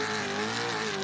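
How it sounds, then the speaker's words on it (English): A racing boat engine roars at high pitch during a river race on the Don River, a loud sustained tone with the pitch wavering slightly, no voices over it. "Have a listen to that Brett's car."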